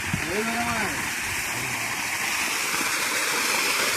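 Water from a hot spring in Khershet, Sangameshwar taluka, pours in a steady, close, splashing rush, with a voice speaking briefly at the start.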